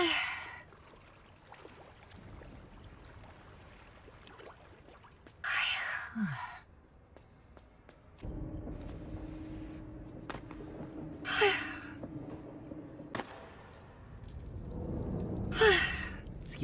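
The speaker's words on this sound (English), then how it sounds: "There's another yawn coming." A streamer yawns repeatedly into a close microphone, a few long, breathy exhalations and gasps separated by quiet stretches with faint low background hum.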